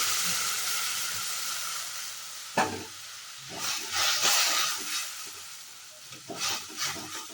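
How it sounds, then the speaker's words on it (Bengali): Ginger-fennel paste and sugar tempering hits boiled lentils in a pan with a sudden loud sizzle, then bursts of bubbling hiss and stirring follow, fairly soft and close. "এবার আমি এখানে দেখো আদা মৌরি বাটা দিয়ে চিনি দিয়ে এটা আমি তড়কা লাগাবো।"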